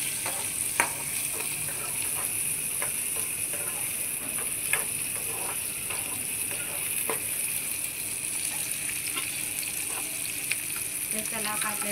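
Tomatoes frying in a pan for a homestyle brinjal and potato dry curry, a steady close hiss of sizzling oil with scattered clicks and pops from stirring, no one speaking.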